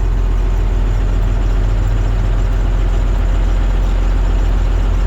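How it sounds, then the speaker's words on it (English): The engine of a 1993 Blue Bird school bus rattles at idle, a loud, steady, low diesel rumble with a continuous clattering texture and no talk over it. "we're getting rattles from the engine"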